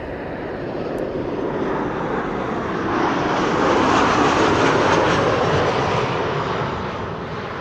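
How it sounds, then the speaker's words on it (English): A KLM Boeing 737-800 arrives at Amsterdam Schiphol, its engines roaring loud and broadband, swelling to a peak mid-clip and then easing slightly as it passes. "This is KLM Flight 1164 arriving from Bergen. 737-800."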